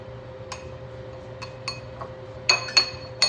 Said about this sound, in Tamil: இது ரெண்டையும் முதல்ல மிக்ஸ் பண்ணிக்கிறேன்.